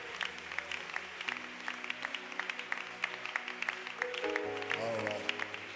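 A church congregation applauds and cheers in praise of Jesus, with rhythmic clapping and faint voices throughout, the sound swelling slightly toward the end.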